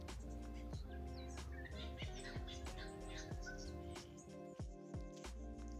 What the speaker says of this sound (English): Plenty of fairy wrens getting around.